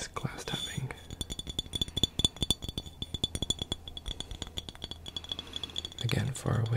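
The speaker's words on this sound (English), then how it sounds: "it's a nice glass tapping" Quick, light glass tapping in a chaotic close-up ASMR trigger assortment: rapid bright clinks and ticks in an irregular stream, very close and fairly soft, with whispering alongside.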